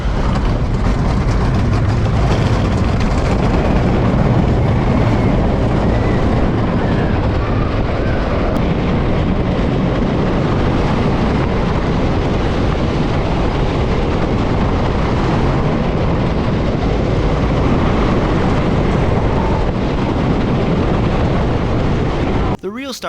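A GCI racing roller coaster train with smooth Titan track rumbles along its circuit at a European theme park, a loud, continuous roar that holds steady for the whole stretch before cutting off abruptly at the end.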